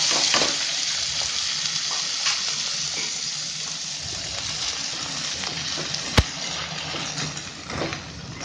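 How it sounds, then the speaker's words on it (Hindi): Chopped onions fry steadily in a pan, giving a continuous crackling sizzle with scattered pops and one sharp clink from a utensil partway through; no voices. "ये प्याज हमारी फ्राई हो गई है"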